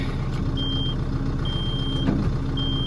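Three steady electronic warning tones from a backhoe's buzzer sound one after another, each about half a second, over the low rumble of its idling diesel engine.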